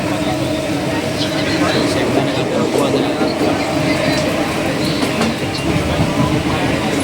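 A crowded commuter train runs with a steady, loud rumble and rattle throughout, carriage noise continuous and close, with faint voices of passengers underneath.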